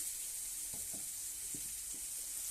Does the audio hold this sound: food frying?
yes